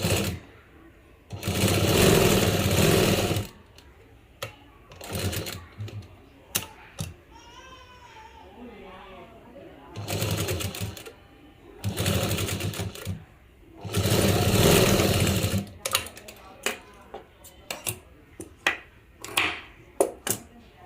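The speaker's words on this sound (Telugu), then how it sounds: "ఇక్కడి నుంచి ఇలా స్టిచ్ చేసుకోవాలి." A sewing machine stitches a face mask in several loud bursts of rapid mechanical whirring, separated by pauses with small clicks and a brief voice.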